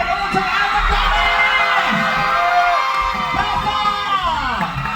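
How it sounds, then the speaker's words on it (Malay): A loud crowd at a cast reveal event cheers, whoops and shouts continuously for a cast member, with high children's shrieks and rising calls over a steady roar. "Lagi jerit kuat-kuat untuk Ahmad Ghani."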